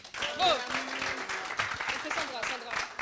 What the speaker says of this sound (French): Alors, mesdames et messieurs, un peu d'applaudissements s'il vous plaît.